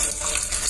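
A turned-on tap runs water in a steady, hissing rush, moderately loud and unbroken for under a second, with no voices.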